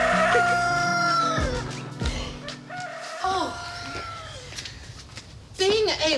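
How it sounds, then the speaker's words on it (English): A rooster crows clearly, in two separate bursts, one at the start and another near the end, with other farm-fowl sounds mixed in between. The whole scene sits in an everyday suburban setting. "You heard the rooster too, eh?"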